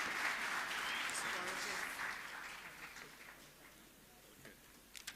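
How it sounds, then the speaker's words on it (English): An audience claps at a university graduation ceremony, a dense burst of applause that gradually thins and fades over several seconds into scattered claps. "Another round of applause for Ms. Mavis Braga Elias, please."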